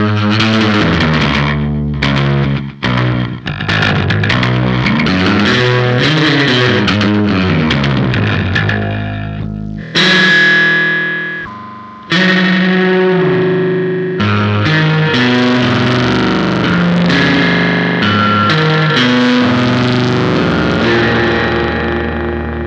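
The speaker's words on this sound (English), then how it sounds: "That was the delay almost as short as it can go" Electric guitar through a Swampwitch pedal set to a very short slapback delay, playing loud chord strums and melodic runs with a quick doubled echo, close and continuous with a brief pause midway.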